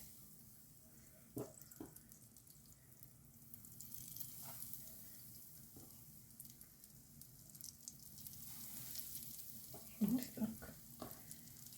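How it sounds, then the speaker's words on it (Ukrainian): Potato and cabbage patties fry in a hot pan with a soft, continuous sizzle, broken by a few light clicks and scrapes. A voice speaks briefly. "Нехай смажеться."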